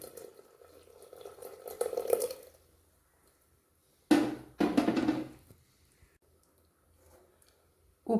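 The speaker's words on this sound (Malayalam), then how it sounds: "അരപ്പ് ചേർത്ത് ആവശ്യത്തിന് വെള്ളം ഒഴിക്കാം" Water poured from a vessel into a Kerala Onam sadya green gram curry just mixed with ground paste: a short, loud splashing burst in the middle, after soft scraping and stirring noises and before near silence.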